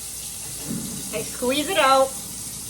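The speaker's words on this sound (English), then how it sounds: "So I just have it under cold water." Cold tap water runs steadily into a sink while homemade butter is rinsed, a constant close hiss with a person talking briefly over it.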